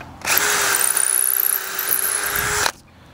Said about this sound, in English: I can use this as a template and drill out the rest.